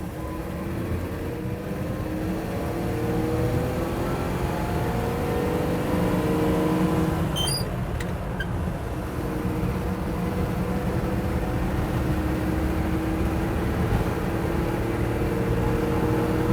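A 1959 Chevrolet Apache pickup cruising along the interstate, its steady engine drone and road roar holding constant throughout, with a brief high squeak cutting through about halfway.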